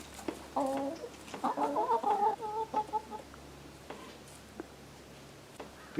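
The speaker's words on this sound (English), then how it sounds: "There were some termites in that cedar, so the chickens are eating it." Chickens pecking at termites in an old cedar stump give off soft clucks and a short burst of murmuring calls, faint and close against a quiet outdoor background.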